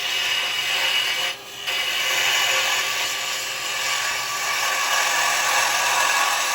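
A wood lathe spinning while carbide chisels cut a wooden toy car, giving a loud, steady whirring drone with a rough scraping edge and one brief dip in the cutting noise.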